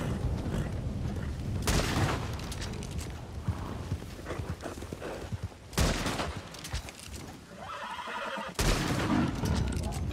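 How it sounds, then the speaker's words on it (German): A nervous horse whinnies and snorts in Red Dead Redemption 2 online, amid hoofbeats and bursts of gunfire, loud and busy throughout. "So, jetzt wird das Pferd schön nervös."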